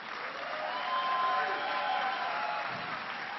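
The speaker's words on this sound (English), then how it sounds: "a round of applause again for Shawnee Davis" An audience applauds at a presidential speech in Syracuse, New York, a sustained, even roar of clapping from a large crowd, heard somewhat muffled and distant.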